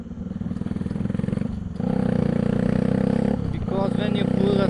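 A Bajaj Pulsar 200NS motorcycle with a loud modified exhaust putters in a throbbing, rhythmic idle, then blips louder as the throttle opens, close up, with a voice speaking over it near the end.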